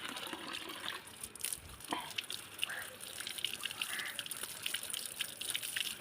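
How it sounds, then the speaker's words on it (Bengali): Greens (kulfa shak) being rinsed under running tap water: a close, steady gush and trickle with occasional splashes, soft overall, with faint background voices. "তাহলে এটাকে আবার কলের জলে ধোয়া ভালো করে।"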